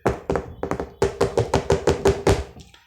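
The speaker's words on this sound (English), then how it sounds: "I'm just knocking the table." Knuckles rap on a table in a rapid series of about a dozen close, loud knocks, first in small clusters and then in a steady rhythm before stopping.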